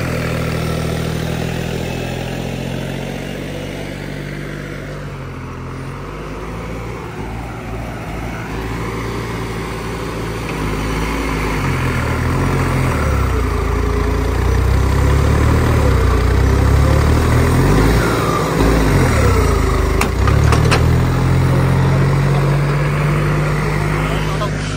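A Deutz-Fahr 70 hp tractor with a power upgrade, water-ballasted tyres and tank, and an added bumper weight runs its engine close by, a loud steady diesel drone that grows heavier under load partway through.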